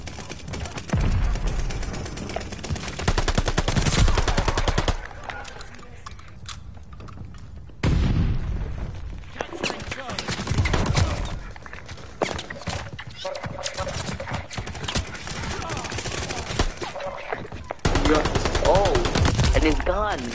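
Heavy gunfire from a Call of Duty Vanguard match, loud bursts of automatic fire and shots rattling through most of the stretch with a brief quieter lull, booming close reports over busy game noise.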